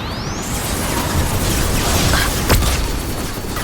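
Flashbang grenades burst during a firefight in the video game Mass Effect 2, a dense wash of crackling noise with a sharp bang near the middle and a rising whine overhead.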